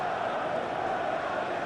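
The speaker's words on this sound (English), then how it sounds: "You can hear the annoyance in the crowd." A stadium crowd in a Chelsea vs Manchester United Premier League football video game simulation gives off a steady, restless murmur of frustration that holds at an even level the whole time.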